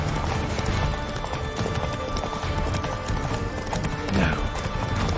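A horse gallops in The Witcher 3 video game, with steady, dense hoofbeats running throughout alongside continuous game ambience and a brief whinny-like cry near the end.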